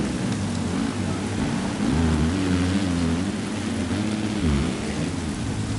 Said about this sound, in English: Probably just because it's raining.